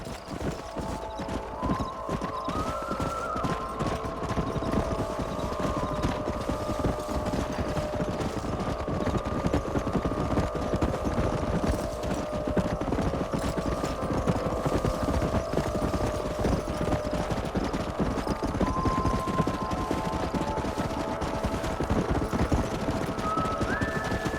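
Horses' hooves clip-clop steadily in Red Dead Redemption during a cattle and wild horse drive, a continuous trotting patter with occasional whinnies over a low sustained hum, without talk.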